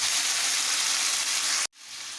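Vegetables sizzle steadily in hot oil in a pan, a loud, dense hiss that cuts out abruptly near the end and returns at a lower level.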